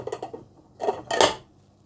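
Plastic juicer lid from a Tefal or Philips juicer being set aside on a counter, a few close clattering knocks in short bursts.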